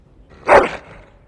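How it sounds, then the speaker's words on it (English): A single dog bark from Dragon Age: Origins, fairly close and clear, rising briefly and fading out against quiet game ambience. "That is a wonderful dog."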